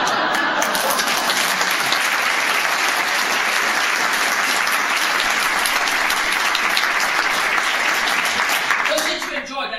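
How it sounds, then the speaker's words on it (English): Sustained loud audience applause at a Bloomsday talk in Dun Laoghaire, dense steady clapping filling the room for nearly ten seconds before tapering off at the end. "we should give him 3 rousing good rounds of applause"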